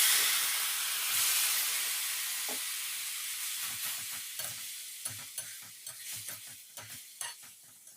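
Hot tempering of cumin, green chili and browned garlic poured into a curry with hilencha greens and lata fish, a loud hissing sizzle that gradually fades into intermittent bubbling pops and stirring knocks.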